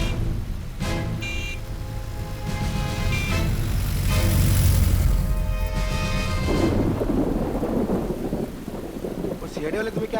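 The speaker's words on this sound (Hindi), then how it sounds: "बारिश होने वाली है, हम लोग चलते हैं।" Heavy thunderstorm with steady rain, loud and continuous, with rolling thunder rumbles swelling through the middle; no talk over it.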